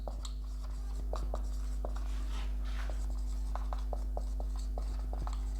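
Chalk or marker writes on a board in a lesson about leaf types, making repeated short scratches and taps in irregular bursts over a steady low hum, close and fairly quiet.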